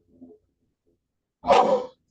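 A single short, sharp human sneeze sounds nearby after a faint brief intake of breath, set in an otherwise quiet room.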